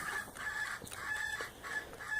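A rooster crows nearby, a drawn-out call broken into several pulses, with faint farmyard background noise.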